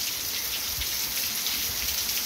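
Heavy rain pouring down before dawn in Amaniutuba, Ceará, a dense, continuous hiss of drops with no pauses or voices.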